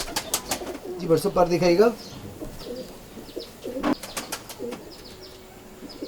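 Ferozpuri pigeons coo in short, low bursts near the listener, mixed with sharp clicks and rustling while someone talks intermittently over them.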